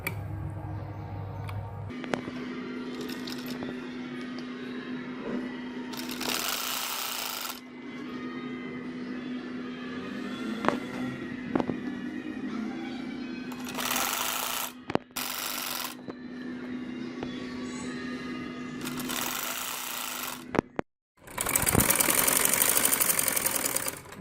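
Sewing machine stitching the hem of a lawn fabric peplum frock, a steady close hum with several louder bursts of running stitches and faint handling clicks, no talking.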